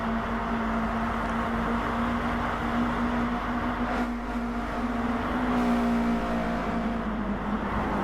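Race car engine in Gran Turismo Sport, a steady sustained drone held at high revs with slight pitch shifts, loud and continuous with no talk.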